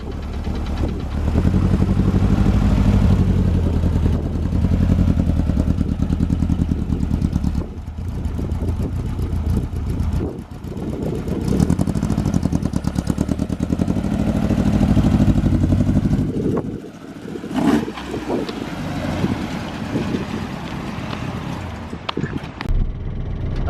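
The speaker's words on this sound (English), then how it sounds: "First time driving the Bug." A 1965 Bug car's engine runs loud and close for the whole stretch, a steady rumbling drone while driving that briefly drops and roughens near the end.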